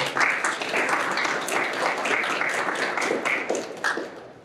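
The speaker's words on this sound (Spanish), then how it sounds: "Aplausos" Steady applause from a crowd, dense clapping that carries on without pause throughout, fairly loud and close.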